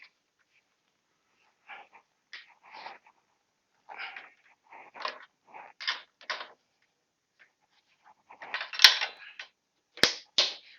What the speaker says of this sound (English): As you can hear, click sound.